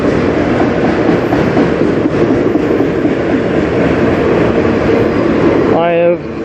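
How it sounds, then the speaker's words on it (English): A CN freight train rolls past close by on the Strathroy Subdivision, a loud, continuous rumble of wagons with steady rattling and clatter from start to finish, ending in a brief squeal of wheels. "This is the third train."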